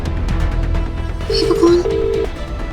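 Phone call being dialed and connecting on a mobile, heard as a short sequence of electronic tones and a brief connecting beep, close and clear over a quiet indoor room.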